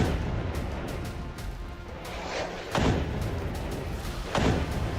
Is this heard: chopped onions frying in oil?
no